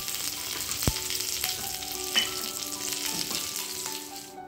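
Curry leaves, dried red chillies and asafoetida sizzling in hot oil for a tempering, with a steady close crackle, a few sharp pops and spits, and faint stirring clinks.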